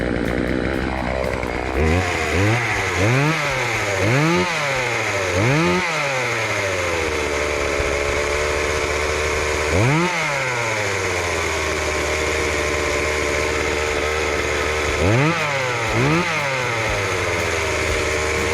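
A homeowner-grade Husqvarna Husky 142 chainsaw, just revived, snarls through a test cut with repeated loud revving bursts that rise and fall over a steady idle, close and without talk.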